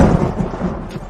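Thunderstorm sound effect, a brief deep rumble of thunder rolling loudly and steadily, dense low booming throughout with no speech over it.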